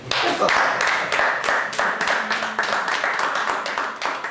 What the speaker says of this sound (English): think we will clap for everything.